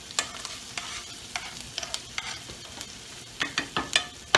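Onions browning in a pan for tacos, a soft background sizzle broken by repeated sharp scrapes and taps of a spoon stirring, clustering toward the end, close by with no talking.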